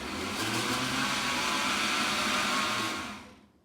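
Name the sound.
mini-bowl food processor blending pesto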